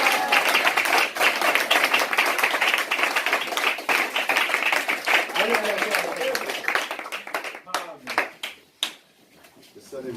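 A church congregation applauding the Lord during a Sunday service, a long, dense burst of clapping with cheering voices that thins out into scattered claps and fades near the end.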